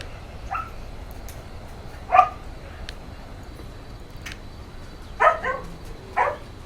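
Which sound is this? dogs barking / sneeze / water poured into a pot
dogs barking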